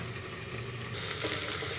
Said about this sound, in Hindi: इसी को पानी डाल के इसको घोल लेंगे